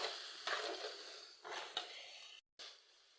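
A spoon stirs a pot of cabbage stew seasoned with curry powder, making a few soft scraping sweeps against the pot with short pauses between them. The sound is quiet and there is no talking.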